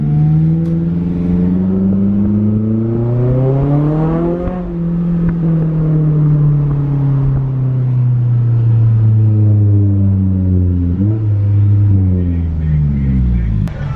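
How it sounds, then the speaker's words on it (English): A Scion tC 2.5 engine's exhaust drones low and steady while cruising around town, its pitch rising and dropping as the car speeds up and shifts gears. "this is what exhaust sounds like just cruising around town"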